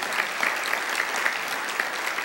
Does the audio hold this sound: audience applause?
yes